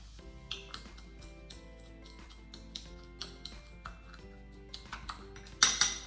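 A beet and mandarin orange salad being stirred as salt is mixed in, giving a string of light clinks and taps of a utensil against a bowl in an irregular rhythm, with a brighter clatter near the end.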